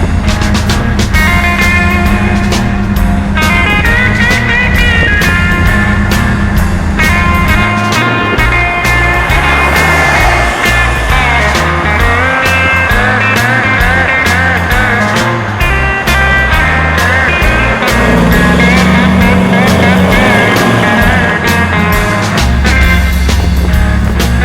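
A Corvette with a dual-quad Buick nailhead engine cruises along, its steady loud engine note and road noise filling the whole stretch without pause.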